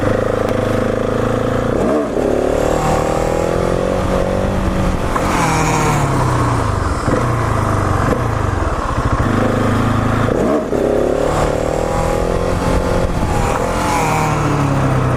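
A KTM 701 supermoto motorcycle engine revs hard at a stunt lot during wheelie practice, loud and close, with repeated rising and falling throttle sweeps and clutch-slipping surges throughout, no talking.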